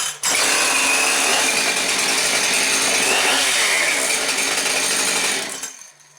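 A Husqvarna 575xp chainsaw engine restarting and running, a loud, continuous buzzing roar that holds steady for several seconds before tapering off.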